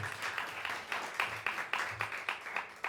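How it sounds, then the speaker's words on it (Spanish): A church congregation claps in a rhythmic, roughly even beat, about three claps per second, moderately distant and fairly soft, with no voices. "¿Cuántos le dan un fuerte aplauso al Espíritu Santo?"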